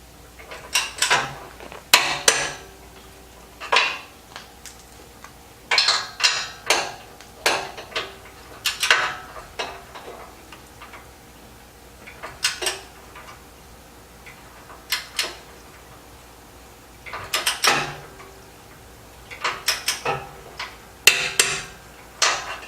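Bolts and metal parts clank and knock while a steel front bumper is fitted onto a Jeep Wrangler JK, with repeated sharp metallic hits in irregular bursts, close and fairly loud, and no talking.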